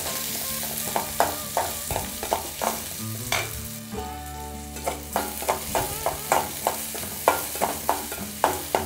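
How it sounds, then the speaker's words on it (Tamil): Finely chopped onion and garlic fry in hot oil, with a continuous sizzle broken by repeated rhythmic scrapes and stirs of a spoon in the pan, close up and with no talk. "எண்ணெய் நல்லா சூடானதும் பெரிய வெங்காயம் வந்து சின்ன சின்னதாக நறுக்கி வச்சுருக்கேன்."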